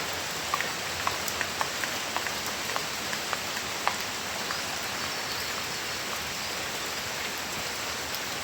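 Rain falls steadily all day onto a shed roof and surrounding surfaces, making a dense continuous patter with scattered louder drops close by and no voices.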